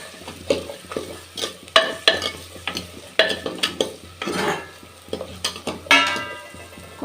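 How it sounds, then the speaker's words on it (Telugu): Garlic and other ingredients are stirred and mixed in a clay pot, with irregular scraping strokes of a spoon against the pot's side over a soft sizzle, close and fairly loud, every half second or so. "ఒకసారి మిక్సింగ్ చేస్తాను."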